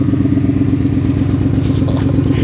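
A work truck's engine idles with a leak that has not been repaired, giving a steady, loud, close-up rumble with a rhythmic low pulsing and some clattery texture throughout.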